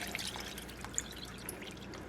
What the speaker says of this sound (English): Now we're going to add the water. We want it to just basically cover the potatoes.